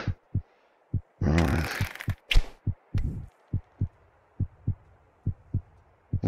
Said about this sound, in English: And my fucking heartbeat.